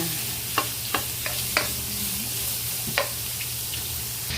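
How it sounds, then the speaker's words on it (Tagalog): Steady sizzle of tilapia frying in a pan while aromatics sauté, with a few sharp clinks of a utensil scraping and stirring at irregular intervals. "nagpiprito pa ako dito, pero nagigisa na ako dito"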